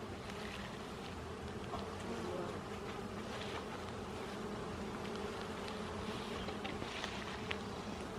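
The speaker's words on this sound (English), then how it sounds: "Wow, lots of bees." Dense, steady drone of many honey bees swarming around an open beehive during an inspection, a continuous close buzz throughout with no talking.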